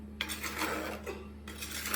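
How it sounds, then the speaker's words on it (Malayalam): Mustard seeds are tempered in a pan for mango pulissery, giving close sizzling and crackling bursts mixed with the clatter of a utensil against the pan, with no talking. "ഇനി ലേശം കടുക് താളിച്ചിടാം."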